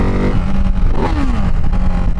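Single-cylinder engine of a Ducati Hypermotard 698 motorcycle revs up and falls back over about two seconds, close and loud, with a throaty, steady rumble under the rising and falling pitch.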